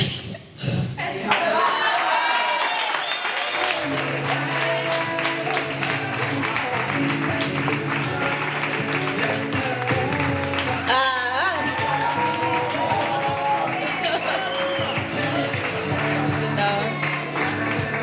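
An audience applauds and claps steadily after a performance, with scattered cheers and chuckles, while voices talk over the sustained clapping.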